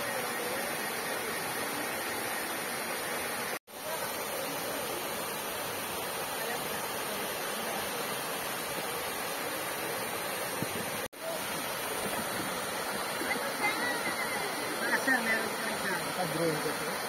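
Lambingan Falls, a waterfall in Mt. Guiting-Guiting Nature Park on Sibuyan Island, pours out a steady, full rushing roar that fills the whole stretch, broken only by two very brief dropouts.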